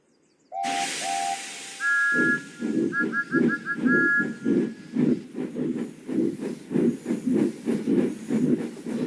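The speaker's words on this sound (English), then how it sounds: "twin columns of steam shooting high into the air" A video game steam train gives a loud steam hiss with shrill whistle toots, then rhythmic chuffing puffs that keep a steady beat.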